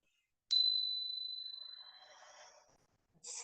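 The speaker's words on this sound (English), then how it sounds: "as you hear the sound of the chimes, begin to bring some movement to the body" A single chime struck in a quiet yoga class rings out clearly and decays slowly over a few seconds, followed by a soft second strike at the end.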